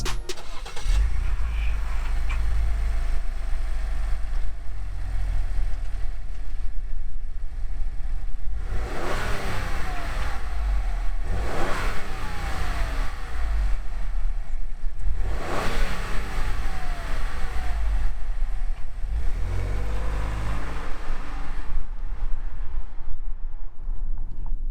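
A 2019 Ford Edge ST SUV being driven, with a steady road and engine rumble throughout and three or four strong acceleration runs whose revs climb and fall in sweeps, loud and close, without any talking.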